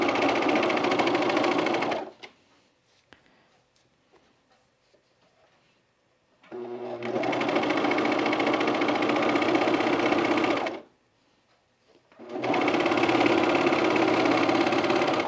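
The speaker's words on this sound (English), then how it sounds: "If you have to stretch and you're at the serger, you be really careful." A serger stitches the seams of elastic-waist pajama bottoms in two loud, steady bursts of about four seconds each, separated by a quiet pause with faint handling sounds.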